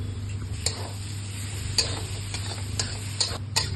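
Mashed potato filling frying in a pan, a steady soft sizzle with repeated scraping and stirring clicks from a spatula at irregular intervals, close and alone.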